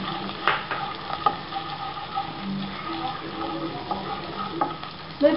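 Onions and ginger garlic paste fry in a pan for chicken Manchurian, a soft steady sizzle broken by repeated scraping and clacking stirs of a spoon, close by with no talking.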